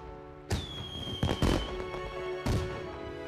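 Festive fireworks bursting over a palace sky in a period drama, with three loud booming bursts spaced over a few seconds over a sustained musical tone.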